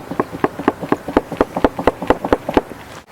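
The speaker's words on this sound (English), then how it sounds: "as I'm fanning this, it's actually building the fire" A campfire of unseasoned wood is fanned by hand, giving a quick, steady series of close, soft flapping whooshes that repeat about eight times per second for three seconds.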